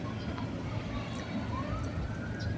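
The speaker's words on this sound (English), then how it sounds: "That weird car circling, sirens" A police car siren wails at a distance, its tone gliding upward and falling through steady traffic-like rumble, faint and continuous across the whole stretch with no clear voices.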